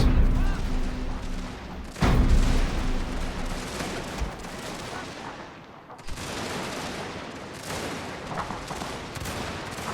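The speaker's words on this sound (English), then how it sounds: "There's a god-awful amount of firing, but seemingly not that many people dying" Massed musket and rifle fire from a Total War battle as Russian troops fight, a dense continuous crackle of volleys with sharp heavier bursts near the start and middle, loud and unbroken throughout.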